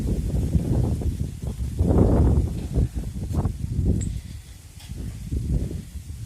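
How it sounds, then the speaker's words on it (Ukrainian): Gusty wind buffets the microphone in low rumbling surges, rising and falling throughout, with a faint rustle beneath. "Сонце, але вітер. Вітер і прохолодно."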